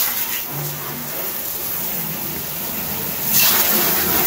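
Water rushes steadily from a hose or tap at a campsite, a constant broadband gush that swells louder near the end.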